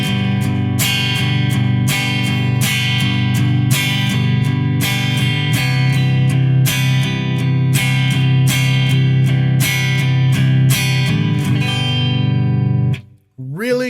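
A guitar is strummed repeatedly in an accented 3-3-2 rhythm, loud and close, ringing out briefly before stopping with a scrape.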